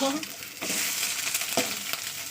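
Loud, close crackling sizzle of food frying in a pan, broken by a couple of quick stirring scrapes.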